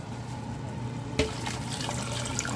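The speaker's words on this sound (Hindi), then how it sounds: "अब इसमें पानी डाल दूंगी" Water poured from a vessel into lentils inside a pressure cooker, a quiet rushing trickle that begins abruptly partway through and continues steadily, close up and alone without talk.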